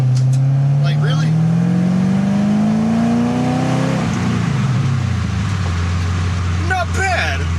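BMW Z3 M Roadster fitted with an engine from a Pontiac GTO, roaring as it accelerates hard with rising engine pitch, then a firm gear shift around the midpoint and the revs building again, loud and close throughout.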